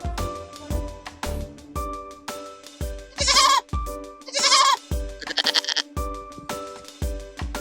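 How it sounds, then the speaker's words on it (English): A goat bleats three times in quick succession, loud and close, over a backdrop of steady, rhythmic plucked musical notes. "It's a goat."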